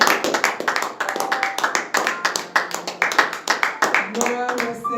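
A church congregation applauds in praise of the Lord, a dense, steady run of many hands clapping close by, with a few voices calling out faintly beneath the claps.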